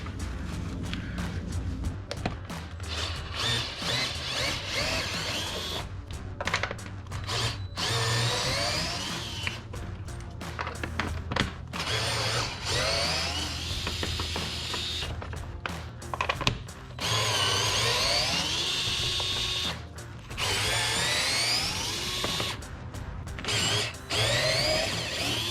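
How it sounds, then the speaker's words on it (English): A power drill loosening screws on the air intake of a RAM 2500 truck, repeated whirring bursts rising and falling in pitch with short pauses, close and loud throughout. "I'll be loosening these 6 screws"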